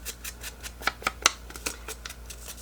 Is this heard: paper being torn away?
yes